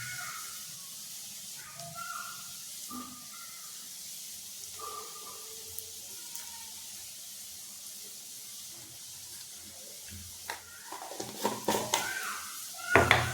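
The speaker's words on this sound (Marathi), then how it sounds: "मीठ टाकल्यानंतरही तिला मिक्स करून घ्यायचं बटाट्यामध्ये." Potatoes stirred with salt in a pan give soft scraping and clinking of a utensil against the metal, faint and intermittent, growing busier and louder near the end.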